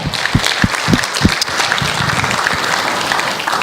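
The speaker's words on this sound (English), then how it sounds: "Let's just give them a warm applause for their help." A church congregation gives warm, dense applause at a Sunday family service, steady and loud throughout with a few sharper claps near the start.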